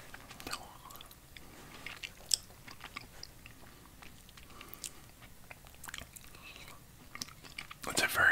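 Soft close chewing of a very small piece of retro sour candy gum, with quiet moist crunches and bites scattered over about eight seconds, faint and intimate, ending in a louder rustle.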